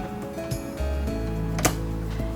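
A B presser foot clicks into place on a Quantum Stylist 9960 sewing machine, one sharp snap partway through amid low hum and faint handling sounds.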